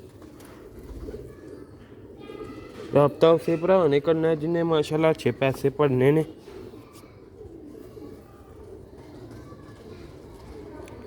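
Sialkoti black-faced pigeons coo softly and steadily in the background while someone talks loudly over them for several seconds in the middle.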